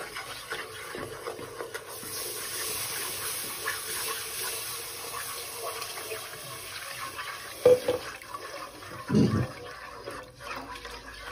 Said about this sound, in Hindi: पानी डालेंगे और दूध डालेंगे।